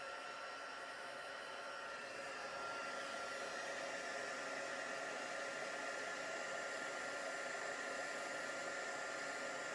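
A craft heat tool blows with a steady, loud whooshing hiss that holds constant throughout, close by and with no talking.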